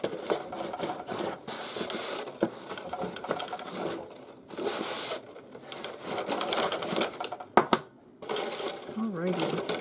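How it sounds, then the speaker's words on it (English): Paper rustling and crinkling as it is handled while a hat is made, in irregular scratchy bursts and rubs, close and moderately loud, with a voice speaking now and then. "I know the paper's making a lot of noise"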